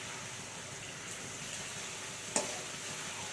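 Ginger-garlic paste is stirred into chicken pieces in a hot pan: a steady soft sizzle with faint scraping, close by, and one brief sharp clink near the end.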